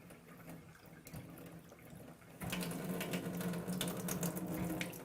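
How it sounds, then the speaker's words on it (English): Electric alkaline water runs steadily from a water machine's hose into a cup, a quiet trickle that turns into a louder, fuller splashing stream about halfway through, with no talking. "So here we go with some electric water. We're going to let this run."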